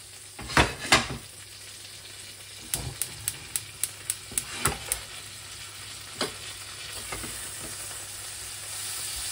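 Butter sizzles and fizzes in a hot pan for duck breast with pepper sauce, a steady close hiss broken by sharp clinks of a utensil against the pan, with no talk.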